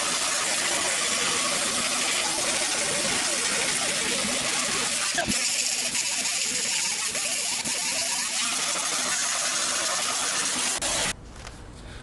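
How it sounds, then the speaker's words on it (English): MIG welder laying weld on 2-inch mini tubs in a 1968 Chevrolet Camaro: a steady, loud crackling buzz that runs almost unbroken for about eleven seconds, then cuts off abruptly into quieter shop ambience. "Time to get in there and start cranking up the welder"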